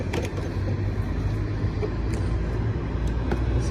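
Steady low road rumble and engine drone from inside a car being towed by a Honda Element on a short tow strap, continuous and fairly loud with no talk.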